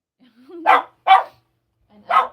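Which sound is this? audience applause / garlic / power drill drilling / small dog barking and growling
small dog barking and growling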